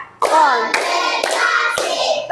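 Children's hands clap in a counted chant, sharp unison claps landing in a steady rhythm, loud and close, with no voices heard over them.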